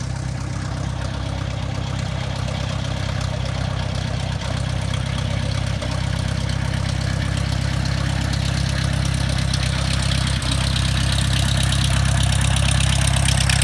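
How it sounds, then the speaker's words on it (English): The propeller engine of an A2A Aerostar in a flight simulator idles with a steady, loud low drone and a constant hum, unbroken for the whole stretch with no talking. "That is a big part of the engine feel and sound, is the prop."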